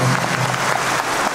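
Concert audience applause forms a brief, dense wash of clapping, with a voice briefly over it.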